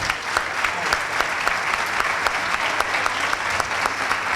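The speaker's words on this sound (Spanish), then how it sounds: "Fuerte aplauso nuevamente para él." Steady applause from a lecture-hall audience at an accounting conference at a university in Lomas de Zamora, dense and even throughout with a few sharper individual claps standing out.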